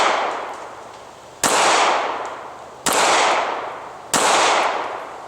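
Three slow, evenly spaced pistol shots from a Smith & Wesson M&P 9C fired at a target about 7 yards away, each a sharp loud crack trailing into a long decaying echo.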